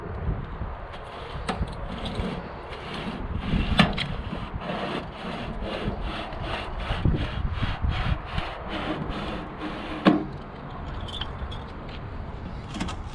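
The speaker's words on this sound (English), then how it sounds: "So I'm using some welding wire, going through a couple of blocks." Welding wire sawed back and forth through blocks while removing an old Jeep JK quarter panel; a steady rhythmic rasping and rubbing with repeated strokes, close and moderately quiet, without talk.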